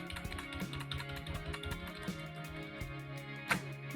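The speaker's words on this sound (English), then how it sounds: "I will just hold Ctrl and Shift, and then use my arrow keys to get it where it needs to go." Keys on a computer keyboard, Ctrl, Shift and the arrow keys, are pressed in a steady run of soft, close taps and clicks, with one sharper click near the end and no voices.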